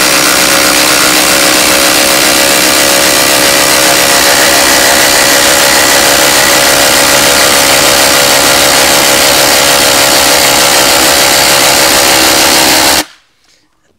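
Hercules and Metabo HPT cordless impact drivers on 4 Ah batteries drive 8-inch lag bolts, a loud continuous hammering whir held steady for about thirteen seconds before cutting off abruptly into silence.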